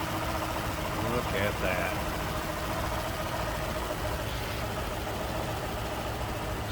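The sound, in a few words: 1932 Ford Model 18 Roadster engine idling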